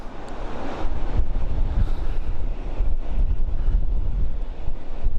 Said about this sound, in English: So far the whole time we've been here it's been pretty windy.